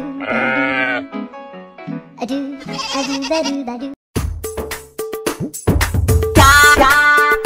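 A goat bleats loudly and close by in a rural comedy drama scene, giving a series of wavering, nasal calls in quick bursts, with a short break midway and louder bleats toward the end.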